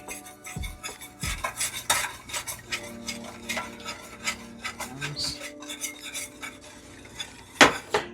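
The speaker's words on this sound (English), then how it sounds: "I'm gonna go ahead and add in my sugar while I'm whisking" Custard whisked in a pot while sugar is added for old-fashioned banana pudding: a metal whisk rasps and scrapes against the pan in quick uneven strokes, with occasional clinks and a louder scrape near the end.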